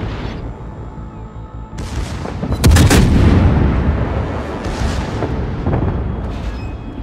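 Heavy naval guns firing in a warship video game, a deep booming blast landing loudly near the three-second mark with further rumbling shots and echoing detonations rolling on through the rest.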